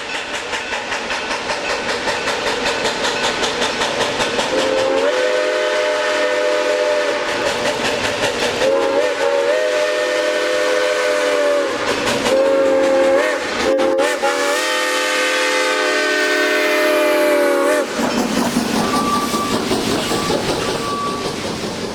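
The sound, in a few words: Smoky Mountain Express train climbing a steep grade, whistle blowing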